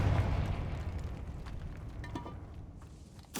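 A Confringo blasting spell explodes in Hogwarts Legacy inside a tomb, a deep rumbling boom that decays slowly over a few seconds, with a sharp new burst at the end.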